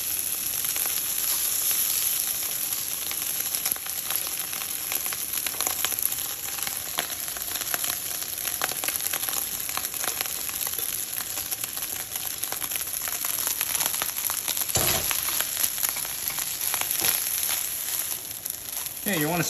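Rice and garlic stir-fried in a hot pan for pork fried rice, giving a steady, loud sizzle with scraping and tossing throughout.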